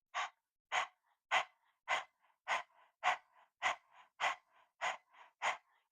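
Intense Kundalini yoga kriya breathing: about ten sharp, forceful exhalations at a steady rhythm of roughly one every half second, each followed by a softer inhale, close and alone with no talk.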